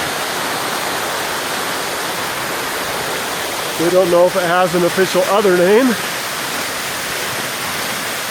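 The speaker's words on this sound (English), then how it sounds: "these are the falls on Dora Creek" The waterfall on Dora Creek roars in a constant, dense rush close by, with someone speaking briefly over the noise midway.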